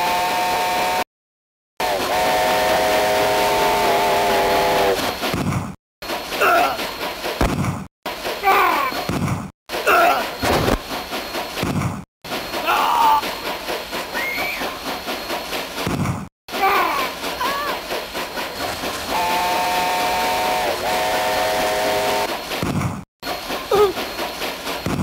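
A steam train in the video game Mad Dog II rumbles along in a continuous loud chugging clatter with repeated whistle tones rising above it, broken by several brief abrupt cuts.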